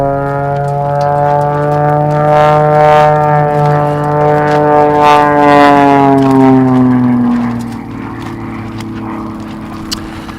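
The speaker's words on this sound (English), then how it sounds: "flying an Extra 300S, single-seat variant of the Extra 300" An Extra 300S single-seat aerobatic plane flies during an aerobatic competition, its propeller engine giving a loud harmonic drone that holds steady and then drops in pitch and fades as it passes.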